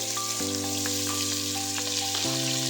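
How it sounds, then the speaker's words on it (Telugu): Onions frying with whole spices such as bay leaf in a pan for chicken mandi: a loud, steady, close sizzle with a sustained tonal hum beneath it. "ఆనియన్స్ గోల్డెన్ కలర్ వచ్చేంత వరకు ఫ్రై చేసుకుందామండి."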